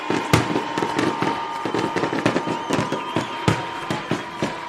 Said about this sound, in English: And here come the Vikings with fireworks.